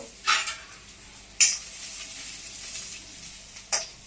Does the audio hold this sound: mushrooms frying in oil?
yes